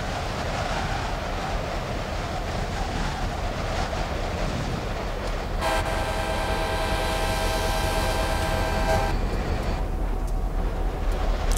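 A train horn sounds in Train Simulator 2015 on an Amtrak California Pacific Surfliner, a steady held blast lasting a few seconds over the continuous loud rumble of the train running.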